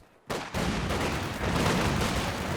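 Pack howitzer artillery fire in Company of Heroes 2 bursts in abruptly and loud, a sustained roar of booming shells and crackling gunfire, close and dense without a break.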